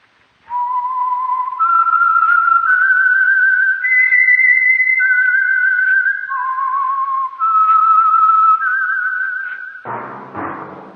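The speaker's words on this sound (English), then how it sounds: "That whistle is your signal for the Signal Oil Program, The Whistler." The Whistler radio program's theme is whistled as a loud, clear, sustained melody of stepped notes over about ten seconds, ending abruptly with a short burst of orchestral sound.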